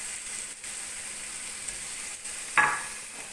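Shrimp go into a pan of hot olive oil against a steady low sizzle, and a brighter hiss bursts up late before settling back into continuous frying.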